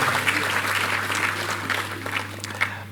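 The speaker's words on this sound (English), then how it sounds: "kindly give a warm round of applause to Governor Ayade." Audience applause at a formal launch event for a Nigerian agro-industrial processing zones program, a steady sustained clapping from a sizable crowd filling the whole moment, with a faint low hum underneath.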